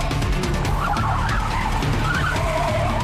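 A car approaches close by and skids, tires squealing in wavering bursts over a loud, steady engine rumble, with no voices.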